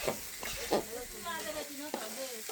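Biryani fries and is stirred in a pot, giving a steady sizzle with scraping stir strokes and a few sharper knocks, while faint voices murmur in the background.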